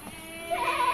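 A goat bleats once, a short nasal cry rising near the end, close by amid faint background murmur at a livestock market.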